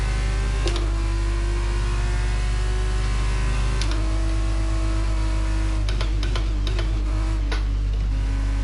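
A Formula 1 car on super soft tyres in the racing game F1 22, its engine droning loud and steady with pitch shifts and a few sharp clicks and ticks.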